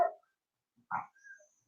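A couple of short dog barks, one at the start and another a moment later, fairly close with silence between.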